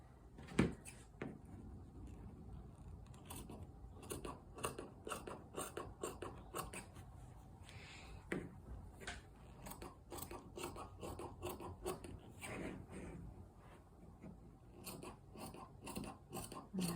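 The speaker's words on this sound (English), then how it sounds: "Now I'm going to trim around on this side." Scissors snip and trim around lace fabric for homemade underwear. The cuts are faint and close, a string of quick crisp clicks and rustles with short gaps between them, and nobody speaks.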